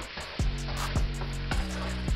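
Shrimp going back into a pan of frying rice, with a steady sizzle and a few sharp taps and scrapes of a spatula at a regular pace.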